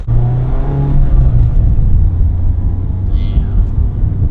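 A Mazda MX-5 Miata ND2 with a manual gearbox drives along with a steady, loud engine drone and low rumble from inside the cabin, holding an even pitch throughout.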